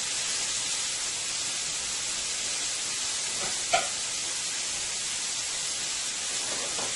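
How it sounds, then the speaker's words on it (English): Butter fish frying in a pan sizzles in a steady, even hiss throughout, with one brief clink partway through and no talking. "I'm going to let that continue to fry for another 2 minutes"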